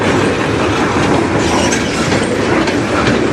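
A train rolls past close by on the Strathroy Subdivision, a loud steady rumble with clickety-clack of wheels over rail joints and faint wheel squeal, filling the whole clip with no talk.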